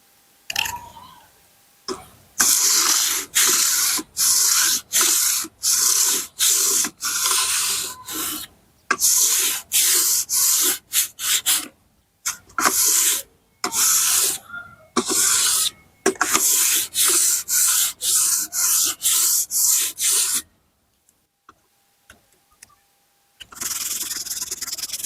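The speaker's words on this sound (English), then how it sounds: "And you put the sandpaper on them" Repeated back-and-forth rasping strokes of sandpaper wrapped around a brick, sanding a handmade guitar body on a beach, in steady bursts of about a second each with short pauses, fairly loud and close with no talking.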